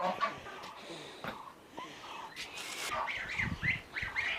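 Chickens cluck and squawk in short bursts, fairly close, with other farmyard noise around them.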